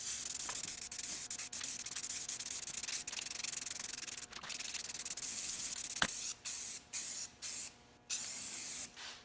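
A spray can lays down one heavy coat of primer on a wheel rim, with the valve stem covered. The hiss is steady and fairly close for most of the time, then breaks into several short separate bursts near the end.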